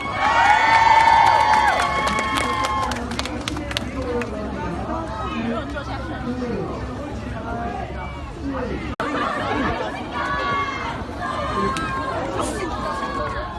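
A large outdoor crowd at a military ground forces festival cheers, shouts and chatters ahead of a popping, krump and b-boy dance performance, with children's shouts and a dense, lively hubbub throughout, loudest at the start.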